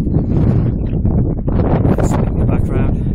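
Wind sweeping across a hilly golf course, producing loud, continuous low buffeting and rumbling against the microphone that pulses in gusts with a few faint higher rustles.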